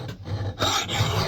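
A file rasping along the edge of an axe blade, a close, steady scraping that briefly dips then resumes louder and harsher, with no talk.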